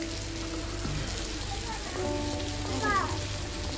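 Soft, steady rain patters throughout, with faint voices and a few brief tonal sounds in the background.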